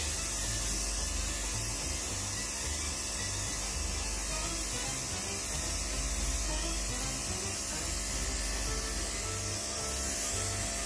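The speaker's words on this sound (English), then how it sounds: "now I'm just airbrushing this rose gold because I think it looks cute" Airbrush spraying rose gold colour onto an ice-cream log cake, a steady continuous hiss with no break, close and fairly quiet, with no talking over it.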